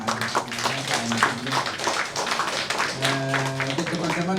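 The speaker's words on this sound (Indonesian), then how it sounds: "boleh tepuk tangan untuk juga Pak Ari." A masterclass audience claps in a loose, rhythmic patter while voices talk and call out over it, the clapping and talk both close and fairly loud throughout.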